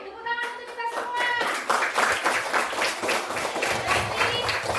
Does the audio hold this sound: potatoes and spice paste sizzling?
no